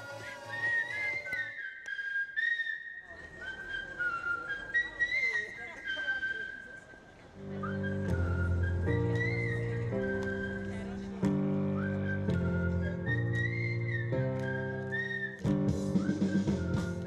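A crowd of chefs in a flash mob at Melrose Arch, Johannesburg, whistling a melody together in sustained and repeating tuneful phrases, loud and bright over a busy public space.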